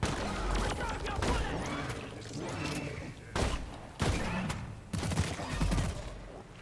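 Dwarf weapons fire in the co-op shooter Deep Rock Galactic on a Hazard 5 mission, with repeated sharp bursts of shots in a busy, noisy mix and several louder blasts toward the end.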